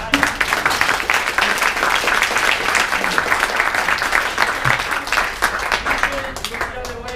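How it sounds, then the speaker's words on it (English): Conference audience applauding after a talk on cloud and on-rack database architecture, a steady dense wash of many hands clapping that carries through the whole stretch with voices mixed in. "let's give a great big round of applause for Robbie Mihalyi."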